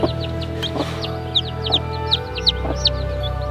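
A hen clucks softly among newly hatched chicks, with repeated high peeping chirps over a low steady room hum, close and fairly clear.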